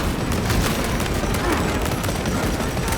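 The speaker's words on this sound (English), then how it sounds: "Frag grenade deployed!" A frag grenade in Warhammer 40k: Space Marine 2 explodes within a dense, roaring wall of combat noise. The blast rumbles continuously and loudly for a few seconds, with voices faintly mixed in.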